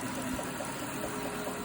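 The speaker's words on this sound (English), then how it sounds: "And that's the noise of my engine making its final dying breath." A struggling car engine idles roughly with a low, uneven rumble and faint knocking, steady and fairly quiet throughout, close by.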